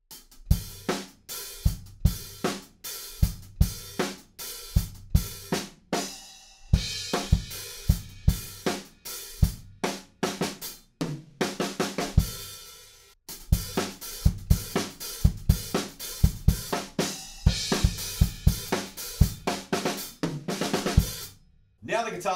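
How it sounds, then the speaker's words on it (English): Rock drum beat for a song with steady 16th-note hi-hats and punchy kick drums, played alone and close, with accents and crashes building over about twenty seconds. "Now we're going to start playing 16th notes on the hi-hats,"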